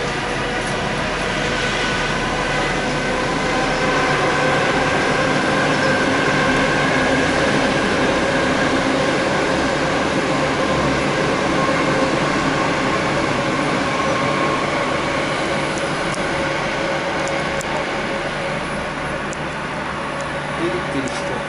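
Electric commuter train passing close by on a suburban line near Shcherbinka, a steady loud rumble of wheels and rail noise holding for the whole stretch with a faint continuous hum beneath.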